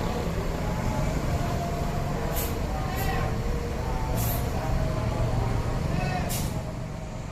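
The Jhonnie Walker bus from the ANS fleet pulls into a parking lot, its engine a steady loud rumble with several short sharp hisses of air release, while people talk over it.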